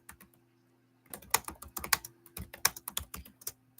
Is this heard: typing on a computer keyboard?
yes